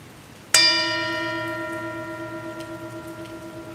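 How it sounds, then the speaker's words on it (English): A meditation bell struck once to close a mindfulness service, a clear bright strike followed by a long sustained ring with steady overtones slowly fading, no talk over it. "I'll invite the bell to sound"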